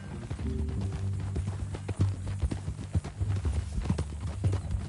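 Rhythmic clip-clop of horse hooves at a walk in Red Dead Redemption 2, close and clear, with a faint low voice in the background.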